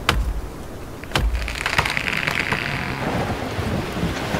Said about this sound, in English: so we got a storm coming in